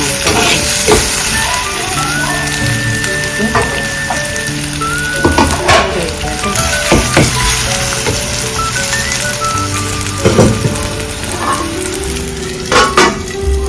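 Tomatoes frying in a hot masala for rasam, a loud close continuous sizzle with stirring clatters and spoon knocks against the pan, music playing underneath.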